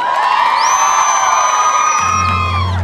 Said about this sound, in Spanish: Un aplauso para Joel Guillán, señora.